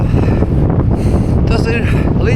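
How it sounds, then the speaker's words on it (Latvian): Heavy headwind gusts batter the microphone of a cyclist in a loud, continuous roar, with a voice faintly mixed in. "Dzirdat? Tā vienmēr. Vējš sejā."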